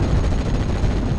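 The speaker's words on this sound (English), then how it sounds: "Panther D now engaging an M4A1 in the centre" A Panther D tank fires on an M4A1 Sherman in Steel Division: Normandy 44, heard as a loud, dense, close blast of gunfire filling the whole short moment with low rumble.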